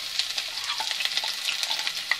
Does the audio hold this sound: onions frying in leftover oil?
yes